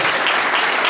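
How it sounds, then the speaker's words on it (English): A brief, dense burst of crowd applause at a High Noon Club gathering for political candidates, loud and close, a wash of many hands with no speech. "I want everyone to give all of them a great round of applause."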